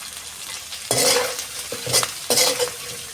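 Coconut and masala fry in a pan for a Kerala-style chicken curry: a low sizzle runs beneath three loud, scraping stir strokes, close and with no voices.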